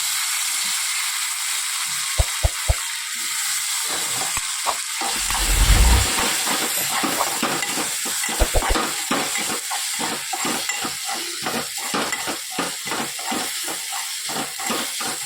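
Potatoes with turmeric and salt being mixed and cooked in a pot for khichdi, with repeated sharp scraping knocks of a spoon against the pot over a steady sizzling hiss and a brief low rumble midway.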